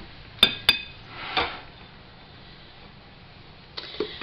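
Two sharp metallic clinks from a ladle and canning funnel knocking against coffee cans, followed by a softer scrape and a few light taps near the end, close and otherwise quiet.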